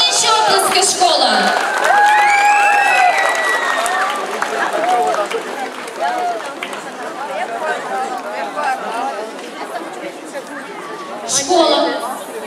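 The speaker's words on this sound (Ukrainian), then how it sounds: "Гучніші оплески, школа!" A school crowd at a 1 September first-day assembly claps and cheers for the new first-grade classes, dense applause under a loud, prominent voice and lively chatter, with children's voices rising throughout.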